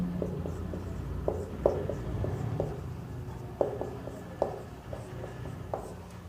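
Pen writing out a trigonometry proof on paper, a series of soft, close scratchy strokes and taps in an irregular rhythm, quiet and with no talking.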